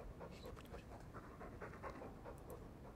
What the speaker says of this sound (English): Hi, puppy.